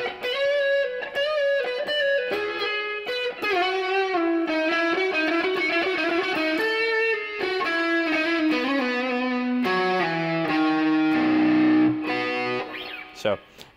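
Distorted electric guitar played through the lead channel of a Boss Katana 50 amplifier, a sustained melodic line with singing, gritty notes and bends, loud and close.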